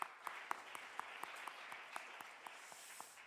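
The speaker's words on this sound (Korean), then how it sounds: "우리 하나님께 영광의 박수 한번 돌립시다." A congregation claps in a quick, even rhythm at a Friday prayer meeting in a church. The sound is faint and distant, with regular sharp claps over a soft wash of hall noise.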